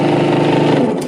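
A British motorcycle with a Lucas electrical system idles at a steady speed, a close, loud engine hum that holds even throughout the short moment.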